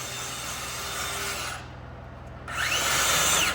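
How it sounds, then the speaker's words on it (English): Power drill boring holes in timber on a log home construction site, a steady whirring drill sound that drops away briefly mid-clip and then returns louder with a rising whine. "They're drilling for electrical wire."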